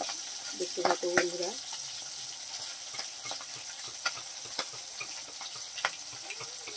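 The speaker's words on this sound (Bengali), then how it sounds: "বৌদি ভাই কিন্তু মাছগুলোকে খুব সুন্দর করে ভেজে নিচ্ছে" Pieces of fish frying in oil for a potato fish curry, a steady close sizzle with scattered crackles and a few stirring clatters, while a voice briefly sounds near the start.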